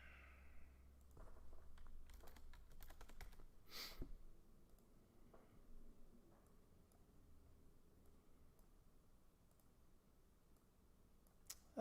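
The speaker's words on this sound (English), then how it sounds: "I can't even type. It's mechanical keyboard." Scattered clicks from a mechanical computer keyboard, a burst of quick keystrokes early on and then sparse taps, faint and close over a quiet room hum, with no talking.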